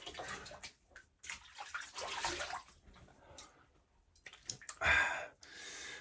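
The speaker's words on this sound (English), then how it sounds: "So first pass, nice slick shave. We will rinse and then we'll go again." Water splashes and runs from a tap as a face is rinsed after a shave, close and quiet, with irregular bursts of splashing and dripping.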